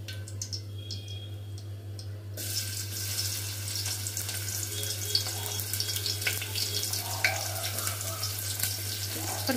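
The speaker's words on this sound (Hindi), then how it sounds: "अब हमारा ऑयल गरम हो चुका है, इसमें हम डालेंगे प्याज।" Chopped onions added to hot oil for a shepu and toor dal sabzi, starting after a quieter moment as a broad, continuous hiss over a low steady hum, with no talking.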